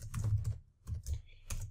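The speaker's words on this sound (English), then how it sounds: "you can start typing your blog post" Close, quiet keystrokes on a computer keyboard come in small clusters, with a brief pause partway through.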